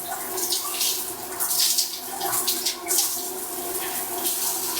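Tap water runs steadily while face wash is rinsed off, a close, continuous splashing hiss with small surges.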